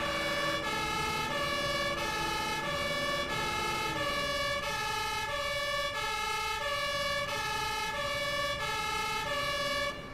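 A video-game fire truck's siren sounds alone, loud and continuous, cycling in a steady rhythmic pulse throughout.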